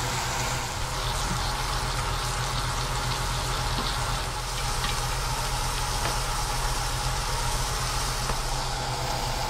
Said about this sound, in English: Now we're going to add our fish. You hear that sizzle.